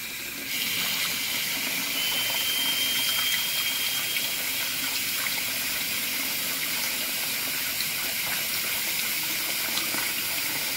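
Hot water runs hard from a faucet fed by a Rheem RETEX-18 electric tankless heater, a steady, loud hissing gush that continues unchanged, with no talking.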